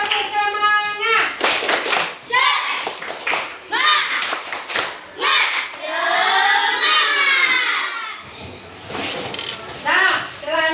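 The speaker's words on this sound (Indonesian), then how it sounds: "mari kita tepuk semangat. Ayo, 1, 2, 3. Tepuk semangat." Schoolchildren in a class doing a rhythmic spirit clap, bursts of clapping alternating with children's voices chanting in a lively, close room.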